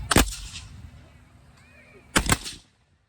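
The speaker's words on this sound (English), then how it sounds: "Fire by file, 1 round only. Commence firing." Two loud musket shots from Civil War reenactors firing by file, about two seconds apart, each a sharp crack with a short rumbling tail, with a faint quiet stretch between them.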